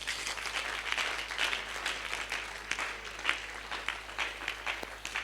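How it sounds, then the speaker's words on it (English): A church congregation claps and applauds during a pastor's sermon, a dense, steady wash of many hands with scattered louder claps, moderately close and continuing throughout. "It's a good place to clap."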